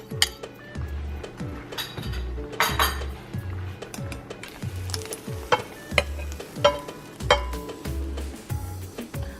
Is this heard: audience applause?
no